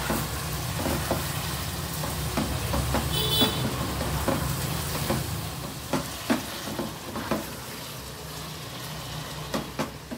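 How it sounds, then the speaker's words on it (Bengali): Chilli powder being stirred into lemon coconut Lotte fish frying in a pan, a steady sizzle under repeated scraping clicks of the spoon, sharper stirring taps toward the end. "দিয়ে দেব লঙ্কার গুঁড়ো, দিয়ে আবার একটু নেড়ে নেব।"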